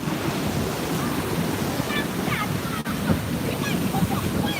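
Waves wash continuously up a sandy shore, loud and near with constant wind noise on the microphone, and faint voices appear briefly over the surf.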